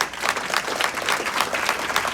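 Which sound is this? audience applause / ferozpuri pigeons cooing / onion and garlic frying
audience applause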